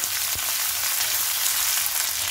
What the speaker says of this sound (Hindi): इसे भी साथ में हम थोड़ा भून लेते हैं। चलाते हुए आप इसे भून लें।